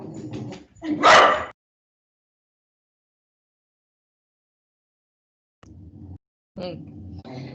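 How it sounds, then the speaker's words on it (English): A dog barks at a mailman outside, a loud close yelp amid a few brief indoor sounds, then a long silence before more faint noises return. "There's a very dangerous mailman outside that the dog is very concerned about."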